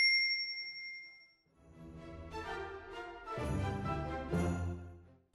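A bright notification ding rings out and fades, then a cluster of layered bell-like chimes swells and lingers, clean and upfront with no voices.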